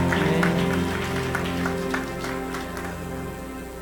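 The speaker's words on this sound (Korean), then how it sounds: "우리 주님께 박수로 영광 돌리겠습니다." Church congregation clapping together in worship during a Sunday afternoon service, a steady dense round of applause mixed with lingering music, sustained for several seconds before easing slightly.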